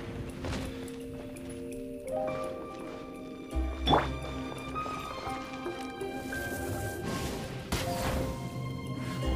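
Water dripping in the Genshin Impact video game, with scattered drips ringing over a steady musical and ambient game backdrop, one louder splash-like drop standing out midway.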